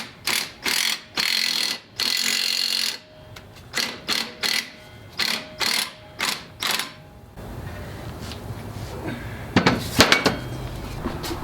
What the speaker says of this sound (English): I've got the ball joint press all set up. Just going to go ahead and whiz it in the rest of the way.